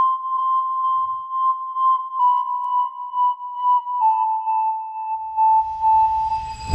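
Synth lead melody for a new jazz beat made in FL Studio, a steady sustained electronic tone with slight pitch shifts, joined near the end by low rumbling bass texture; no talking.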